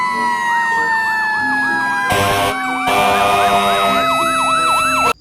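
A toy fire truck's electronic siren wails loud and close in rapid repeating up-down sweeps, with a short burst of scraping noise partway through before it cuts off abruptly.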